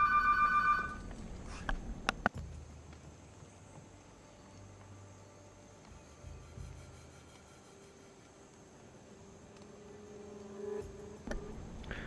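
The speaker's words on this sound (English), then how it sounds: "Phone ringing." A telephone rings with a short electronic trill at the start, then a steady faint hum and a few clicks follow.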